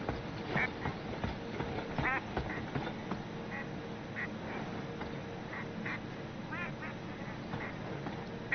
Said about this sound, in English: I swear, it sounds like there's a duck right next to me.